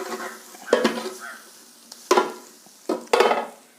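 Chicken with masala powder frying in a pan is turned over with a spoon, giving three or four scraping, clattering stirs over a low background sizzle.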